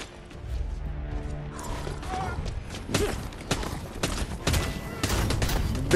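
Brass knuckles pounding a crusher zombie in Dead Island 2, a run of heavy impacts and crunching hits over a steady game rumble and noise, growing denser toward the end.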